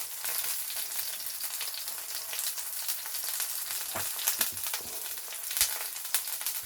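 A steak sears in a little butter in a hot pan, a steady close sizzle and crackle with a few sharper spits and pops, no voices.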